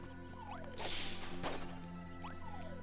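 Repeated whip cracks and swishes from Kirby's whip attack in Kirby's Return to Dream Land Deluxe, sharp lashes over steady game music and effects, with no talking.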